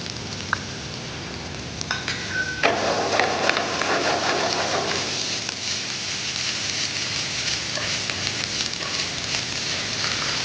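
Green chilli, coloured capsicum and diced onion sauté in a pan for chilli mushroom masala. A close, steady crackling sizzle runs throughout, with some clatter partway through.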